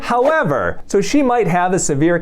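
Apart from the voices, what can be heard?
No everyday noises stand out.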